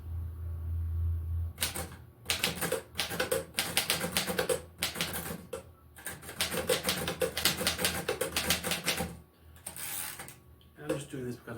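Keys clack in rapid bursts on a Royal manual typewriter, close and crisp, with short pauses between runs of typing and what sound like carriage or lever clunks.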